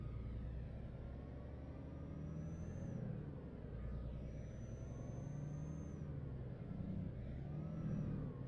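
A Volvo FH16 540 truck engine in Euro Truck Simulator 2 drones steadily with a deep, continuous rumble, rising slightly in pitch a few times as it revs. No voices are heard.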